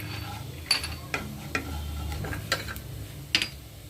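Cumin seeds crackling in hot oil in a pan for a methi and white chana dish, soft sizzle with scattered sharp pops and ticks over a low steady hum.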